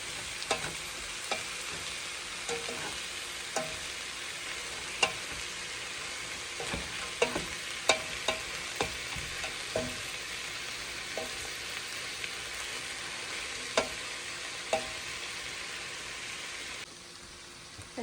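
Sliced beef sizzles steadily in a pot of hot oil for papaitan, a continuous hiss broken by scattered clinks and scrapes of stirring, close and fairly quiet with no talking.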